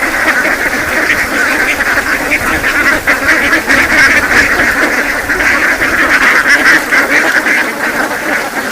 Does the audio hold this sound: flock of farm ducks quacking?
yes